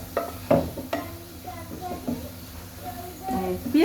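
Garlic and dried chilies sizzle in hot oil as a tempering for greens, a soft frying crackle with stirring clinks under a person talking nearby.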